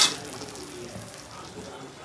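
A sandwich frying crisp in a pan, a steady crackling sizzle with faint stirring and pan contact, fairly close, a brief sharp clatter at the start, no speech.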